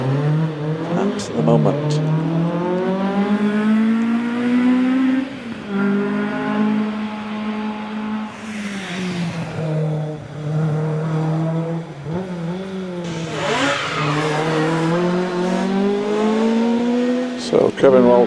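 A Ford Escort Mark II rally car powers up a hillclimb, its engine note rising and falling steadily through gear changes for the whole stretch, with a commentator talking over it throughout.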